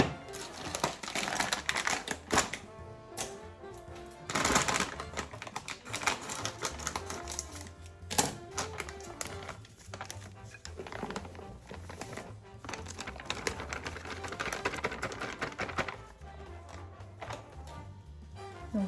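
A food processor mixes 500 g of flour with 200 g of almond butter in a continuous, busy clattering whir, with irregular rattling knocks throughout at close, moderate volume.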